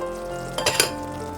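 Yogurt is stirred into mutton curry in a pan, a low sizzle with two brief spoon scrapes in quick succession near the middle.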